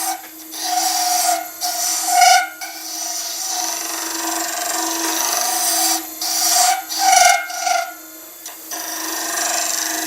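A skew chisel scrapes a turning epoxy and timber egg on a lathe, making a continuous raspy scraping with a steady tonal hum underneath and several stronger bursts as the cut bites.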